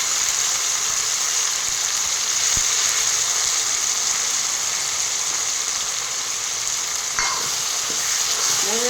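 Tomatoes sautéing in a pan for paruppu urundai kuzhambu, a constant close hiss of frying with a couple of faint clinks near the end, no speech.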